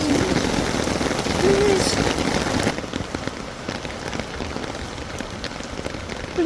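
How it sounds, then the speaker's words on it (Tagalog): Heavy rain pours down steadily and loudly, easing slightly partway through, while someone speaks over the downpour. "Oh Lord! Please stop the rain."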